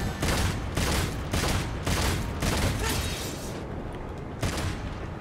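Gunfire in the video game Devil May Cry 5, a steady series of heavy, evenly spaced blasts, about eight in all, loud and close with no talking.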